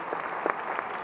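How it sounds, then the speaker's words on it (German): An audience applauds at a German youth literature award ceremony, a short, moderately distant patter of clapping from a crowd. "Und wir begleiten Sie mit einem Applaus auf das Sie auch haben"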